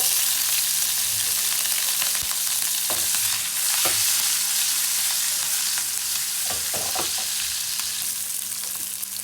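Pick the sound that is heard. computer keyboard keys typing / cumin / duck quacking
cumin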